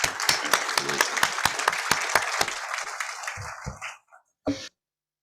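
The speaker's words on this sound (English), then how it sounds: "So let's give her a round of applause, you guys." An audience at the 16th Annual State of North Omaha community event breaks into a round of applause, dense rapid clapping that fades away over several seconds, ending in a few scattered claps and a brief cough.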